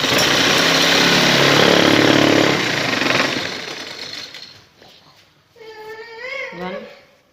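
A sewing machine runs steadily, stitching the waistband of a shalwar, a loud continuous whirring buzz that stops partway through, after which someone speaks close by.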